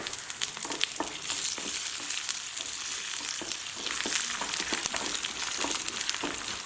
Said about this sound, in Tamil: பருப்பு, மிளகு, ஜீரகம், மிளகு, பூண்டு எல்லாத்தையும் போட்டு வறுக்கணும்.